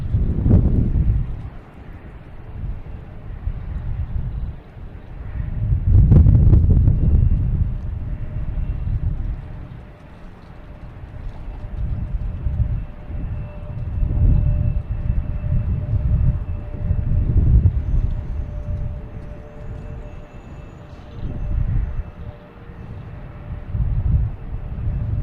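A Boeing 737 airliner on flight 4125 to Dallas moves at Boston Logan Airport, producing a deep, rolling jet rumble that swells and eases repeatedly at moderate distance.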